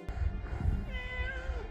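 A cat that has run off during a photo shoot meows once in a drawn-out, rising-and-falling wail, fairly faint over a low rumbling background, with no talking.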